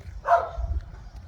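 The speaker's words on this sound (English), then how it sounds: "but in somebody's house they're barking" Dogs barking inside a nearby house, a single muffled bark standing out faintly over low background rumble.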